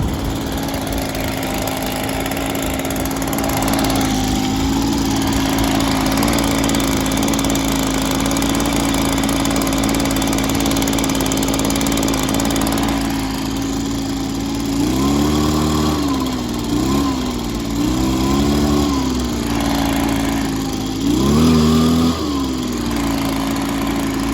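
A 2005 Stihl BR420C magnum backpack blower engine warms up with a loud, steady two-stroke drone close by. Its pitch rises and falls with several throttle blips near the end.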